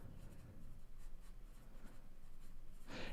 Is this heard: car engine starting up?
no